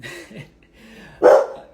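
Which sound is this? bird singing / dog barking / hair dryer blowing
dog barking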